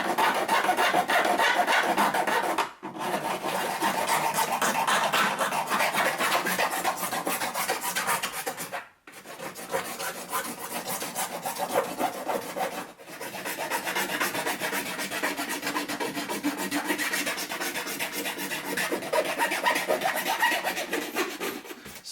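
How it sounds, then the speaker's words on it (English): Coarse file rasping across an acrylic PC base plate, steady back-and-forth strokes close up and loud for about twenty seconds, with two or three brief pauses between passes. "There's a part there where I screwed up pretty badly, so I'm just going to get a bigger file."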